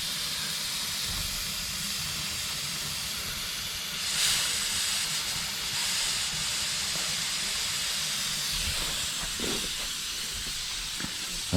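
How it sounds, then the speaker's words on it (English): Steam hisses steadily from the open drain cocks of a 3-inch scale Burrell traction engine in mid-gear, a continuous airy rush with a few small swells and no talking. "we're in mid-gear with the drain cocks open, and we can see we have got a bit of steam coming out"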